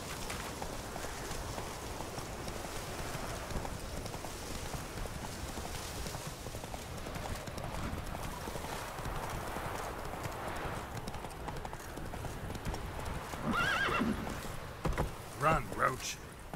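Roach, a horse in The Witcher 3, gallops with steady hoofbeats under a continuous bed of game ambience and music, and a brief whinny-like flourish rises near the end.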